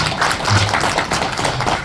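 An audience claps at a Korean party leadership campaign speech, a dense close burst of hand claps that runs steadily for the whole moment with no voices over it.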